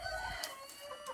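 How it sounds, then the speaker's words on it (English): A Brabanter rooster crows once, close and fairly faint, a short strained call standing alone with no talk over it. "Just a real pretty rooster"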